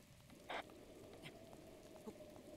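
Steady rain hisses in The Legend of Zelda: Breath of the Wild, a soft even wash sprinkled with light drip-like taps, one brighter splash standing out early, quiet and constant throughout.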